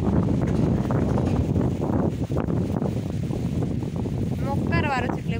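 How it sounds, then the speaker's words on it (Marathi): Strong wind sweeps across an open farm field of fenugreek grown for seed, buffeting the microphone with a loud, gusty roar that rises and falls throughout, with rustling in the background. "मोकार वारं सुटलंय"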